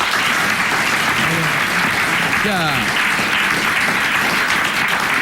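Studio audience applause on a French radio-television panel show, dense steady clapping throughout, with a brief word spoken over it.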